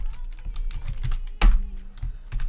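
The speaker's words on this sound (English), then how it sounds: "you have to press insert key and then you should type text" Rapid keystrokes on a computer keyboard while typing text in a code editor, a steady close run of clicks with one louder thump partway through.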